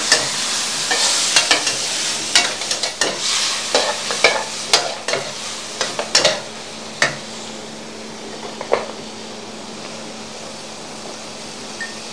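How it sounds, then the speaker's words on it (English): Long beans with green and red chilies stir-fried in a hot pan, a continuous sizzle broken by a rapid run of sharp spatula scrapes and clanks in the first half, then settling into steady hiss with an occasional knock. "Stir fry for a few seconds."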